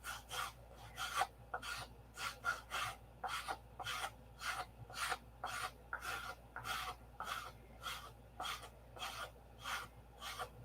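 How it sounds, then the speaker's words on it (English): Sandpaper rasps against a block on a P-47 model wingtip in steady back-and-forth strokes, about twenty close, soft scrapes in an even rhythm with no talking. "Grind a little bit of it off with some sandpaper,"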